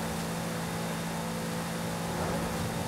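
A monster truck's engine revving in Forza Horizon 5, a steady, loud, mid-pitched drone that holds throughout with a slight swell near the end.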